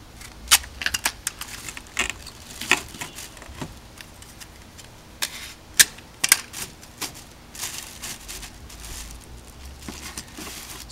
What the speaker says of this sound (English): I'll come back and tape down the rest of it.